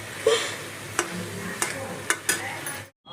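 Meat fries with ginger, garlic and salt in a pan, a soft steady sizzle broken by several sharp scraping stirs of a utensil, close and fairly quiet, cutting off abruptly at the end.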